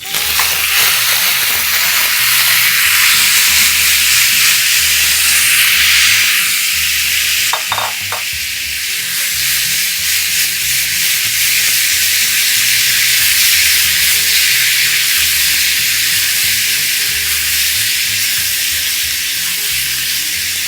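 Tomatoes sizzle and crackle steadily in a hot pan over high heat, with a brief clatter of stirring midway and continuous frying hiss throughout.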